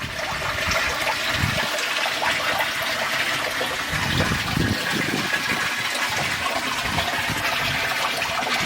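Water gushes and splashes steadily from a leaking Evolution Aqua 25-watt UV sterilizer on an aquarium setup. It makes a continuous, loud rushing flow with surging bursts throughout.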